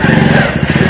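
A motorcycle engine runs loud and close, idling in a rough, rapid putter that holds steady for a second.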